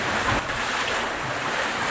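Big sea waves surge and wash continuously at close range, with a steady roar of water and wind buffeting the microphone. No one speaks.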